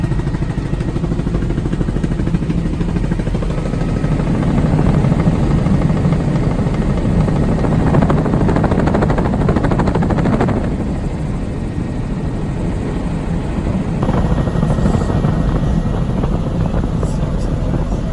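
A helicopter flying over a racetrack, its engine and rotor making a steady loud whine and drone throughout, with people talking over it.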